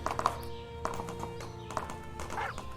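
A video game horse whinnies and its hooves clip-clop in short taps against a background game soundtrack, fairly quiet and mixed together.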